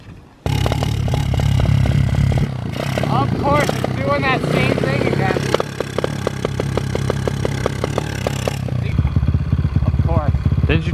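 A motorcycle engine idles steadily up close, its even chugging pulse joined by clatter and scraping, with people talking over it.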